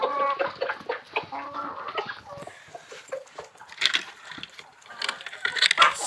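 Farm hens cluck and call in short scattered bursts, fairly quiet, with a few sharper squawks in a busy outdoor yard.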